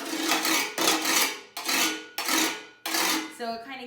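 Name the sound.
scraping a bucket as a percussion instrument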